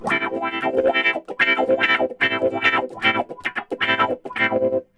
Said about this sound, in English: if I had the tremolo thing and I had the wah-wah,